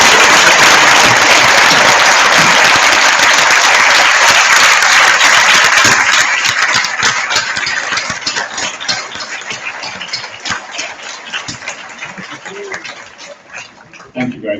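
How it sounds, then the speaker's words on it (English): Applause for graduating IB students at a 2015 school graduation ceremony, a dense, loud wash of clapping that holds steady, then thins and fades over the second half into scattered claps. "I hope you'll join me in giving them a round of applause for the hard work they've done."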